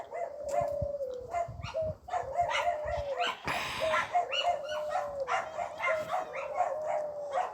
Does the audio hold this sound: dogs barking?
yes